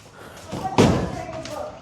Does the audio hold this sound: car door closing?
yes